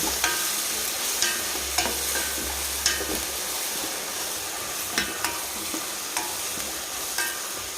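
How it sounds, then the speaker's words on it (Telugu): Ground green chilli paste frying in a pan for a beetroot and fresh coconut curry, a steady close sizzle broken by regular sharp scrapes and taps of a spoon stirring, with no talk. "అది మొత్తం వేసేసి పచ్చివాసన పోయిందాక వేయించుకోవాలండి"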